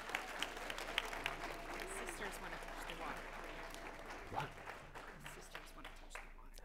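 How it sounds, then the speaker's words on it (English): A church congregation at a Sunday worship service claps and shouts in celebration, a dense, steady patter of hands mixed with raised voices that carries through the whole stretch and eases slightly near the end. "Just shout, clap."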